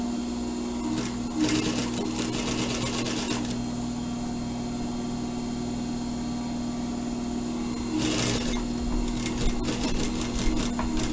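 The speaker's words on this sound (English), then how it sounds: "you start sewing again" Sewing machine stitching fabric for a surgical scrub cap, running in two steady close bursts with a pause between, over a constant motor hum.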